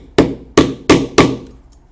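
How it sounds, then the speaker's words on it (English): Four sharp hammer blows setting a metal rivet and cap through leather on a biker saddlebag, evenly spaced and loud, each ringing briefly before fading, with no talking. "Put the cap in place and set the rivet."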